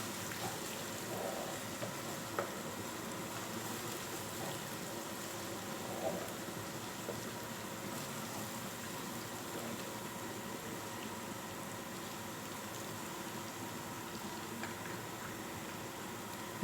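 Garlic, onion and ginger fry in a pan for dhaba-style daal mash, giving a steady, soft sizzle and crackle that runs throughout with a few faint clinks.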